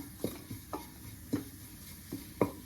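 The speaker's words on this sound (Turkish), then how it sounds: "Şöyle unumu güzel kavuracağım şimdi." Flour stirred into butter in a pan as it toasts for chicken soup, a utensil scraping in short, spaced strokes over a faint low sizzle, close and fairly quiet, with no talk.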